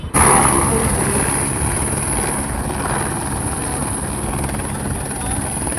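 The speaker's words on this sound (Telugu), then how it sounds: "ఇప్పుడు హెలికాప్టర్ ల్యాండ్ అయ్యింది ల్యాండింగ్ పొజిషన్లో ఉంది హెలికాప్టర్" A helicopter at a beach festival in Machilipatnam keeps up a loud, continuous rotor and turbine roar close by, with a high engine whine and faint crowd voices underneath.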